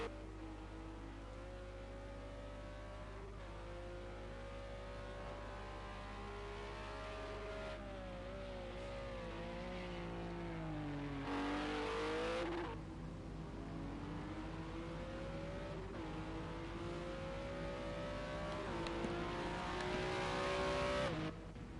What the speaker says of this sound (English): He's banging off the rev limiter